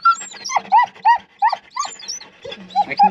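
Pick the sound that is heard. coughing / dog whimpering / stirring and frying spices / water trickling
dog whimpering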